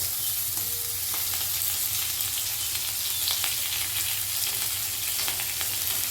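Spiny gourd with chopped onion frying in a pan, a continuous dense sizzle and crackle heard close and steady, with faint occasional stirring ticks and no talk.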